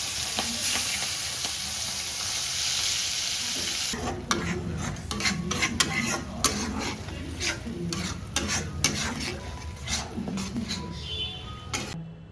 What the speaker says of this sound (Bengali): লবণ হলুদ দিয়ে মাখিয়ে হালকা গোল্ডেন করে ফ্রাই করে নিলাম।